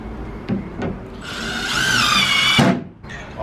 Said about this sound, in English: So I'm just screwing them to the back.